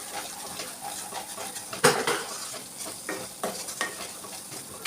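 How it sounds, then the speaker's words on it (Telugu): Telugu-style fish curry (chepala pulusu) with tomato, turmeric and salt being stirred in a pot: a low simmering sizzle with clinks and scrapes of a spoon against the metal, nearby, no voices. "ఇలా కలుపుకొని మూత పెట్టుకోవాలి"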